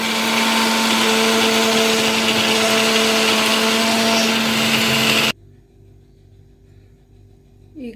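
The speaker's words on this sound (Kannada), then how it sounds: "ಇವಾಗ ಮಿಕ್ಸಿ ಮಾಡ್ಕೊಳ್ಳೋಣ." A kitchen mixer grinder whirs loudly and steadily as it grinds cooled, cooked horse gram into a paste for sambar. The motor runs without a break, then cuts off abruptly and leaves near silence.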